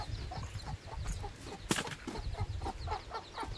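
A hen clucking in short repeated bursts nearby, with a brief flutter of wings in the middle and faint background noise.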